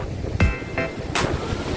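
Broad rushing wash of surf swells twice at Murud beach, a wave sweeping in and receding, with wind buffeting the microphone outdoors.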